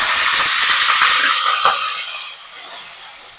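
Onions frying in hot oil with whole roasted spices for a spicy village-style chicken curry, a loud steady hiss and sizzle that gradually fades as the pan settles, with no talking.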